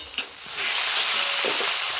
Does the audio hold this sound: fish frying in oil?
yes